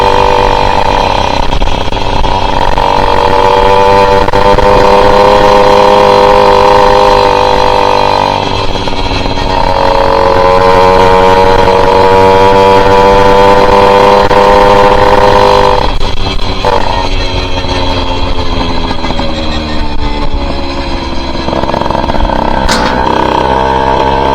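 Tomos Flexer moped ridden up close, a loud buzzing two-stroke engine whose pitch rises and falls as it revs and shifts gears, including the change from first to second, continuous with no talk.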